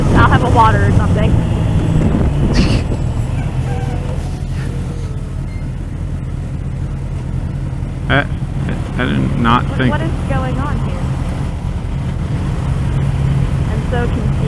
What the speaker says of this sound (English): This is called traffic